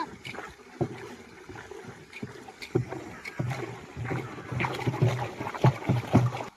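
Water sloshing and churning as a thick stick stirs fertilizer into it in a barrel for drip irrigation, with repeated low swishes and knocks against the barrel, outdoors on a farm with light wind.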